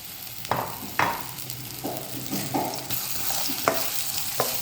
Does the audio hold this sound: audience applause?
no